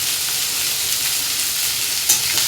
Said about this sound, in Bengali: এগুলোকে একটু ভাজা ভাজা করে নেব